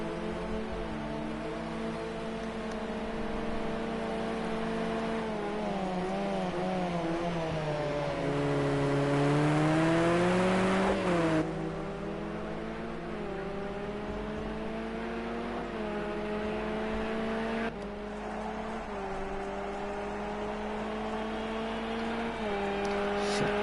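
A race car laps a wet circuit during an endurance round in Austria, its engine droning steadily with rising and falling pitch as it approaches and passes, loud and continuous without talk.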